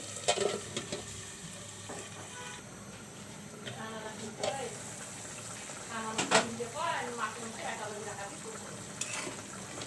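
Dried poa fish sizzling and frying in a pan as a spoon stirs it, with soft crackle underneath, occasional clinks and scrapes of utensil on metal, and a voice speaking intermittently over the cooking.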